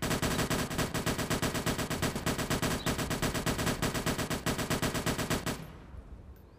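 Rapid sustained volley of gunfire from a firing squad, loud dense bursts like automatic fire continuing for over five seconds before cutting off abruptly into fading echo.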